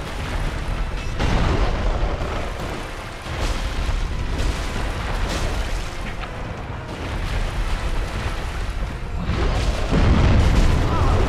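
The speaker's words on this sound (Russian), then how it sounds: "А, ну то есть он меня в основном просто взрывает" A boss in Dark Souls Remastered unleashes a steady barrage of booming explosions, a dense, loud roar of blasts and rumbling that barely lets up.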